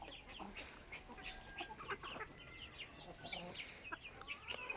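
Several hens and roosters cluck and murmur while pecking at sliced tomatoes, melons and halved cucumbers, with scattered close calls over a quiet farmyard background.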